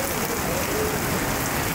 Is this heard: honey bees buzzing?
no